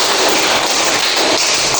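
Young pupils at a madrasah ibtidaiyah classroom performing a rhythmic clap-five routine, heard as a loud, dense wash of many hands clapping together without a break.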